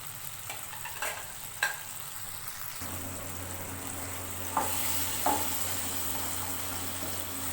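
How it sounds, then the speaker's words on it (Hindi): Tomatoes with skins removed, broken up and frying in a pan for chicken karahi, giving a steady close sizzle with a few sharp stirring clinks and scrapes throughout. "टमाटरों को अच्छे से तोड़ के इनको फ्राई कर लेंगे"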